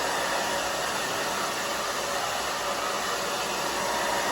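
Hair dryer blowing on the back of a short haircut of thick, coarse hair, a loud steady close-up hiss of rushing air running without a break and with no talking.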